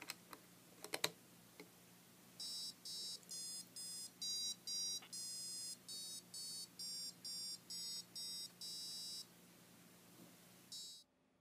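A rhythmic series of sharp electronic beeps at varying lengths from a small speaker, following a few clicks, faint and alone in a quiet room.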